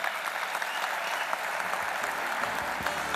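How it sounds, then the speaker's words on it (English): An audience claps at the signing of the Japan-South Africa Business Forum during an investment conference, a dense, steady round of applause that goes on throughout. "a round of applause as the signing of the Japan-South Africa Business Forum takes place"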